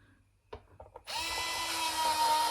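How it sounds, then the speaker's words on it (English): Power screwdriver driving screws into an Xbox One S case, a few light handling clicks then a sustained close whirring drill whine that holds steady to the end. "start to put the screws in there"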